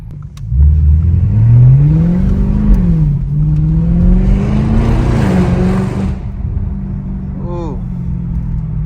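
Loud, close straight-piped Audi S7 engine rumbling through a downshift with rising and falling revs on a city street, ending in a brief burble as it settles.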